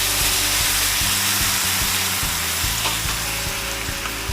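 Sauce hits a hot pan of stir-fry for an omurice and sizzles loudly and steadily, a close, dense frying hiss that never lets up, with faint scraping from stirring underneath.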